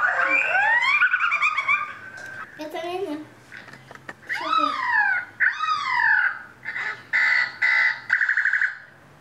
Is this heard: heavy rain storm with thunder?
no